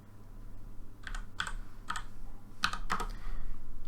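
Keys on a computer keyboard are tapped in a quick, sparse run of about half a dozen close, crisp clicks as dimensions are entered, over a quiet room hum.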